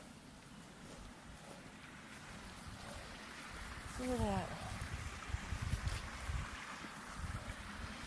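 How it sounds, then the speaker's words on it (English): Small waterfall in Cumberland Gap National Park, a steady broadband rush of falling water heard close and continuous, with someone briefly speaking over it midway. "But look, I found this nice little waterfall."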